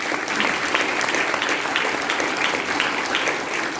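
A seminar crowd at a business closing event gives dense, sustained applause, loud and even from start to finish with no talk standing out.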